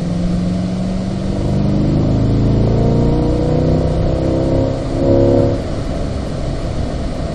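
Chevrolet C8 Corvette accelerating uphill on the Spring Mountain race track, a loud close engine whose pitch climbs steadily and then eases off near the end.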